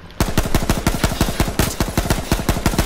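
Automatic gunfire in the video game H1Z1 rattles out in rapid, closely spaced bursts, loud and continuous from just after the start to the end, with no talking.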